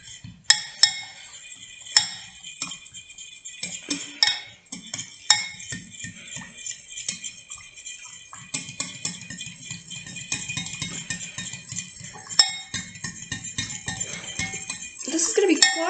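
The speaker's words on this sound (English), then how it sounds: "Now it says that I must stir until the gelatin has dissolved. This is not going to make a good noise" A spoon stirs gelatin into hot pineapple water in a bowl for a bromelain science experiment, giving repeated clinks and scraping rattles against the dish in an irregular rhythm, close and moderately loud.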